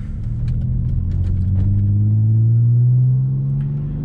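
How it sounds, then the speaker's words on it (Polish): A 2003 Mercedes C240 W203 engine hums steadily on a motorway, with a low drone rising in pitch as the car accelerates, loud and continuous with no talking. "Słyszycie, jak ten samochód już nam buczy?"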